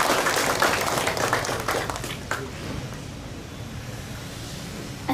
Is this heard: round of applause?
yes